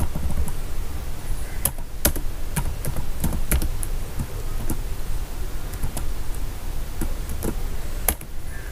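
Rapid, continuous keystrokes on a computer keyboard while entering an Excel formula, close and clear, with irregular clicks and a few louder taps.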